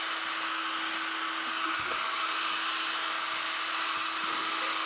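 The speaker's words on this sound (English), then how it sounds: "Sounds like a vacuum." Steady, loud whirring from a power tool that sounds much like a vacuum cleaner runs throughout, during disassembly of a Talbert 50-ton lowboy trailer in a shop.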